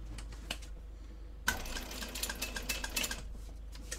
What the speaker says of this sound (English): Now I want to sew across here using a 1/4 inch seam allowance.